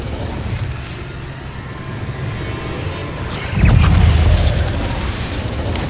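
Bombarda blasting spells explode in the Hogwarts Legacy video game, a loud low boom bursting in midway over a steady rumbling game soundscape.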